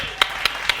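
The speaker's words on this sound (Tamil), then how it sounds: "கைத்தட்டு" Three sharp, evenly spaced claps from an audience in a Tamil-language Bible study gathering, short and moderately loud over a faint room background.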